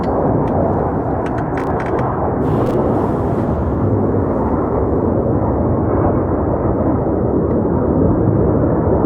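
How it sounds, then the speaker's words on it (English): An F-16 fighter jet passes overhead as a loud, steady, broadband roar. It fills the whole stretch at a shooting range, and no voices are heard. "Yeah, that's an F-16."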